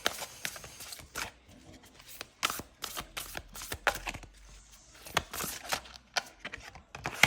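A large 105-card oracle deck being shuffled, close rapid riffles and flicks of cards in uneven bursts, quiet with no talk over it.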